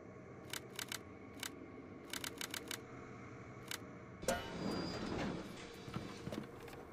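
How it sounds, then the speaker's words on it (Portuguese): Repeated short clicking bursts from a security camera in BioShock Remastered, spaced irregularly over steady game ambience, then a louder rushing noise swells up near the end. "Tem uma câmera em algum lugar aqui fazendo barulho agora."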